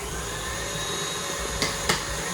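An electric mixer beats cake batter as flour works in for a pineapple upside-down cake, giving a steady high motor whine with a couple of brief scraping clicks near the end and no talking.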